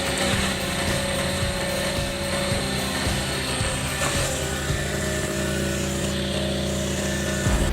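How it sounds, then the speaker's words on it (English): A stump grinder's high-speed toothed wheel, with alloy cutting teeth, chews through wood and tree roots, giving a loud, continuous droning roar with a steady engine hum and no pauses across the clip. "The stump grinder uses a sharp grinding wheel with teeth made from highly abrasion-resistant alloy, rotating at extremely high speeds to cut, grind, and crush each layer of wood"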